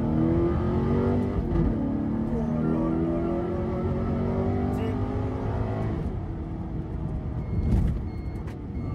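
Alfa Romeo 8C Competizione engine accelerating hard, a loud close V8 howl climbing steadily in pitch through the gears, with a brief shift dip before pulling on again.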